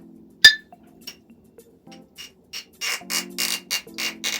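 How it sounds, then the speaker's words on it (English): A cork pops from a bottle of Laphroaig 10 Year Old Sherry Oak whisky, followed by a few faint clinks, then a run of rhythmic glugging pulses as the whisky pours into a glass, close and clear with no talking. "So I'll pour myself a nice glass first."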